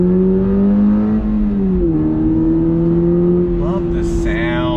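A 2022 Subaru BRZ engine drones steadily under throttle, its pitch dipping briefly as it shifts before climbing again, loud and close throughout, with a higher whine rising near the end.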